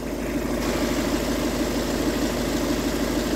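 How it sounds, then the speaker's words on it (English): Steady idle of a 2-litre diesel engine in a Peugeot Expert van, a constant low rumble with even vibration and no break, heard close and alone for the whole stretch. "like I say, we are at idle"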